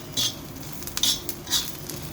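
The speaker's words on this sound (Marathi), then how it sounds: "आपल्याला अजून थोडा हा कांदा भाजायचा आहे" Onion stirred and roasted in a pan for a Malvani chicken rassa, heard as three short metallic scrapes of a spoon against the pan over a low, steady background.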